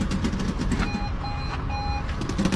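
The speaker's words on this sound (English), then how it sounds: "Alarm's going off." Vehicle alarm sounding from a parked van at a construction site, a steady series of repeated high electronic beeps in several pulses over outdoor background noise, fairly near.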